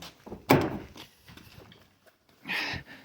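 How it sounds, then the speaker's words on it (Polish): Fiat Bravo II car door opened by hand, giving a sharp latch click followed by a brief rustle and a second softer clunk, close and fairly quiet. "Żeby wyjąć ten element, otwieramy sobie drzwi."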